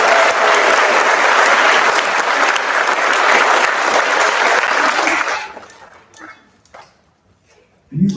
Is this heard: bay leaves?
no